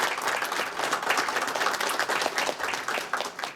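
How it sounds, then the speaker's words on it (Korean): Audience applause for a university president at a college forum in a hall, dense and sustained clapping from many hands, fairly loud and steady from start to finish with no talk over it. "성동재 총장님께 다시 한번 큰 박수 부탁드립니다."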